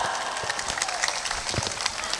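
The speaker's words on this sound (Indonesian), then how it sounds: "Tepuk tangan." Crowd applause at a religious gathering, dense and continuous clapping from many people at moderate volume, with no voices over it.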